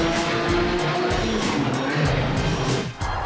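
A car engine roars loudly and steadily through a big tunnel, the sound echoing with a rough broadband rumble and some tonal revving, with no talk over it.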